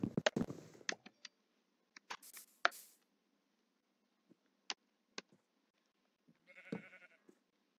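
A sheep in a video game gives several brief bleats, including a longer bleat near the end, against a quiet background with sparse clicks and game noises.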